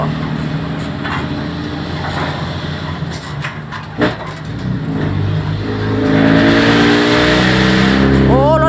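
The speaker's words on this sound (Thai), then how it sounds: "มีแต่เสียงคันดังๆ" Engines drone and rev nearby as vehicles pass, growing louder toward the end, with voices speaking faintly underneath.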